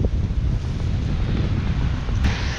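Strong wind and rain buffet the microphone of a roller skater heading into the weather, a steady loud roar with low gusty rumble and no speech.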